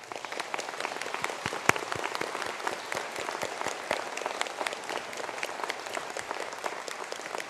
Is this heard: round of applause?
yes